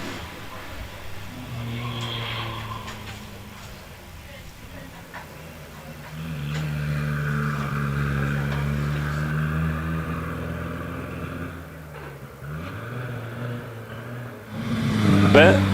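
Vintage 4.5 litre Bentley, car 811, racing up the Prescott Hill Climb, its low engine note rising and falling through gear changes, fairly close and steady, with a commentator's voice over it.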